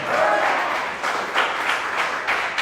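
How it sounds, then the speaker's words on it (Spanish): Church congregation clapping during an evangelistic service, a steady wash of applause with a few louder surges, crowd voices mixed in throughout. "Dale un aplauso a Jesús"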